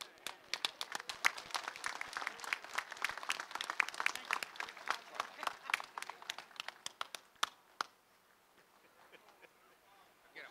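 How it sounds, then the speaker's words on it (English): An audience at a construction and design expo press conference claps in a dense burst of applause that holds steady, then thins out and stops, leaving near silence at the end. "Nice round of applause, please."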